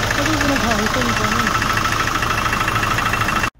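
Hyundai Grand Starex diesel engine idling roughly with a broken glow plug tip inside the cylinder, a loud, close, uneven knocking drone that cuts off abruptly at the end.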